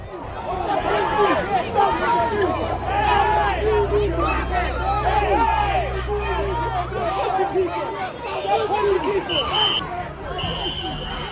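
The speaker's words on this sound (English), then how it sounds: "A large crowd of students assembles, possibly protesting, their voices raised in unison." A large crowd of students gathers in a charged protest with police moving in, a dense, continuous hubbub of many raised voices and chatter filling the whole stretch at steady loudness.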